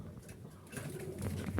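Male wild Jalali pigeons cooing with deep, throaty calls that swell and repeat across the short stretch, close by and fairly loud, with no talk.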